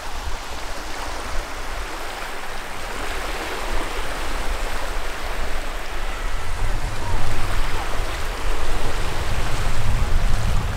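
Sea surf rolling onto the beach at Rimini, a broad steady wash of breaking waves with a low rumble that swells slightly toward the end, continuous and fairly loud with no voices.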